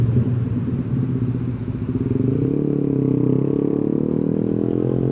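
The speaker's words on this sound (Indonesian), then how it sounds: "di dalam terowongan berisik" A 2018 Yamaha NMax scooter engine drones loudly and steadily while riding at night, its low rumble swelling and echoing inside a tunnel.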